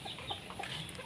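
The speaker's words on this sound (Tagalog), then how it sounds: "ayan ang daming sisiw" Chickens and chicks clucking at a rural Filipino home with caged birds, giving soft scattered clucks and peeps that run continuously through the short stretch at moderate volume with no talk.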